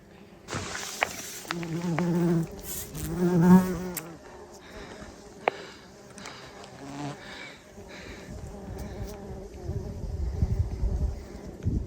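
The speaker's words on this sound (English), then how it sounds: "There's a lot of them. Should I disturb them? They're all bumblebees." Bumblebees buzzing by a creek-side camp near Diamond Peak on the PCT on a hot day, several close droning hums that rise and pass, with people talking over them.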